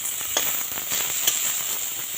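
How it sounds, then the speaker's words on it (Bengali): Eggplant slices fry in a small amount of oil in a wok, giving a steady, close sizzle with scattered sharp pops and crackles. "এবার সবারই প্রথমে আমি বেগুনগুলোকে ভেজে নেবো।"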